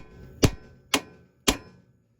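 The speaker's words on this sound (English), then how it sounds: "Now just grab a sledgehammer and go against it to bring it down." Three heavy metallic blows from a sledgehammer striking a car's coilover shock absorber on a Mazda to drive it down and out, evenly spaced, close and sharp, with no talking.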